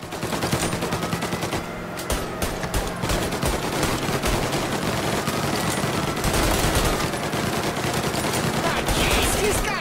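Rapid gunfire from a car chase in the Mafia game, loud bursts of shots crackling almost nonstop over roaring engine and road noise.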